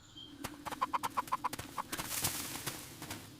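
A chicken clucks in a quick run of about seven sharp calls near the start, with a few more scattered clucks and rustling farmyard noise after, all close by and without talk.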